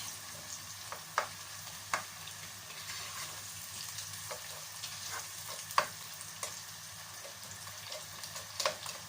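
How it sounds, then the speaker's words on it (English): Onion cooks in a pan, giving a quiet, steady sizzle with occasional soft pops and crackles, heard close and alone. "waiting for the onion to cook, not too much because I don't want it to burn."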